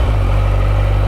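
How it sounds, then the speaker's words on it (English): An idling Kawasaki Ninja 1100SX inline four-cylinder engine gives a loud, steady, close low rumble for about a second, alone with no voices. "The sound of that smooth inline 4-cylinder burbles into life."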